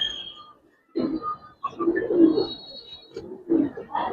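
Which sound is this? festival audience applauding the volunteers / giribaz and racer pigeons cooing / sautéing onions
giribaz and racer pigeons cooing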